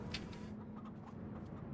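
Chickens on a large poultry farm in Farming Simulator 25 cluck faintly, a few soft, scattered calls over a low steady background hum, with no talking.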